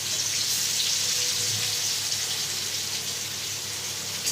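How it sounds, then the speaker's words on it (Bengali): Chopped onion fries in hot oil with a steady, even sizzle that stays constant throughout, close and moderately loud, with no voices. "পেঁয়াজটা লাল করে ভেজে নেব।"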